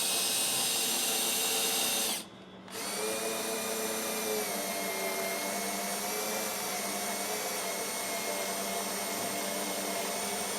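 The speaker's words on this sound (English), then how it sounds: "we're going to take a 1/4 inch drill bit and we're going to drill through the pilot hole on the outer tube into the inner tube" A power drill with a 1/4 inch bit bores through a pilot hole in the outer tube of a truck traction bar into the inner tube, on a 2020-2026 Silverado/Sierra L5P 2500/3500. A steady, loud whine runs throughout, broken by one brief dip early on.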